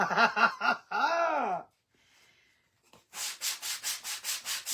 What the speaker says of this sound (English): All right, let's give it a good sand.